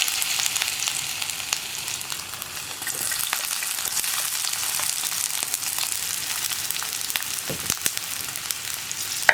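Ginger, green chili and onion sauté in hot oil, giving a steady, close sizzle and crackle throughout, with occasional light scrapes from stirring.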